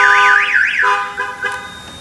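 An Excalibur 1670 car alarm siren wails in rising and falling sweeps, then shifts to short repeated tones, loud and close.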